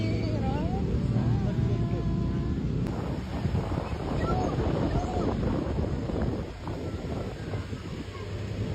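Strong storm winds in Pakansari, Bogor buffet the microphone with a heavy, continuous low rumble and gusts while voices talk over it.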